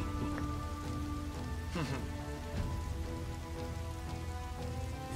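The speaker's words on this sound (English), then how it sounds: "This never-ending rain, too." Heavy rain pours in the Dynasty Warriors 8 Xtreme Legends video game during the Battle of Fan Castle, a dense, loud, unbroken wash of rain under battle music with a brief sweeping effect midway.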